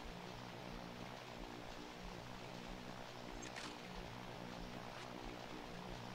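A propeller airplane engine in the Toy Story 2 video game drones with a steady low, buzzing throb, fairly faint and continuous, with no talking.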